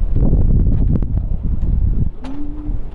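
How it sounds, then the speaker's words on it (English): Strong wind buffeting outdoors, loud rumbling gusts battering the microphone throughout, with a brief rustle and a faint bird-like chirp partway through. "How are you guys holding up with the wind today?"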